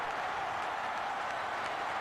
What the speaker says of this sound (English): Crowd's rocking here in Knoxville